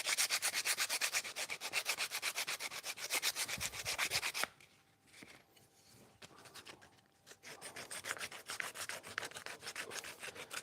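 Sandpaper rubbed back and forth on the wooden tote of a hand plane, a steady rapid rasping scrub that pauses briefly midway before resuming, close and fairly loud.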